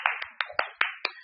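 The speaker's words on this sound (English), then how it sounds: "We're going to run a round of applause to Mercy." A short round of applause at a youth branding talk event: about six sharp, evenly spaced hand claps, close and fairly loud, with no talk over them.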